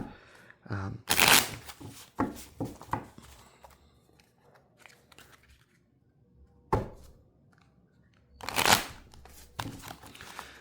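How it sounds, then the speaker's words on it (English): Several quick bursts of cards being riffled and shuffled, separated by quieter handling and tapping sounds. "I'm going to give these a quick shuffle"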